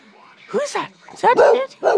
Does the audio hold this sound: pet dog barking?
yes